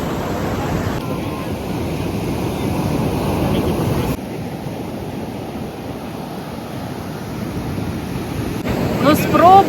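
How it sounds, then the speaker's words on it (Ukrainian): Atlantic Ocean surf rolls in steadily against the rocky cliffs at Cabo da Roca, a broad continuous wash of waves with heavy wind buffeting the microphone throughout. "А хвилі просто накатують."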